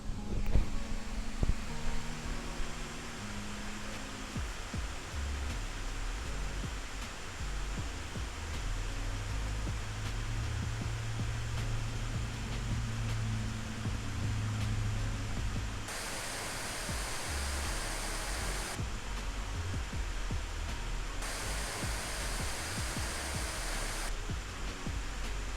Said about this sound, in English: Now comes the CPU test, so I'll compare it to how the fan sounded on the M16.